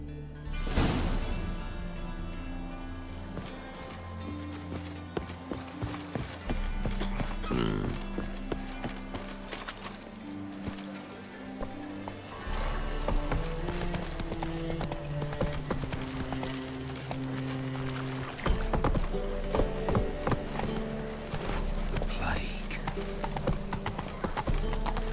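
Roach the horse gallops in The Witcher 3, hooves clip-clopping in a steady rapid rhythm with occasional snorts, mixed with game ambience and spoken dialogue.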